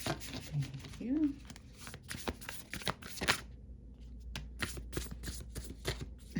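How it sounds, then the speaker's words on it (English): Tarot cards being shuffled by hand in a series of crisp riffles and slaps that come in bursts and pauses, close and fairly loud, with soft speech in between. "We're going to shuffle right on through that."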